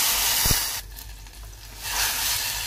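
Cooked dal poured into hot tempering of curry leaves and chopped green chillies gives a loud, close, steady sizzling hiss. The hiss briefly dips before surging again, with no voices over it.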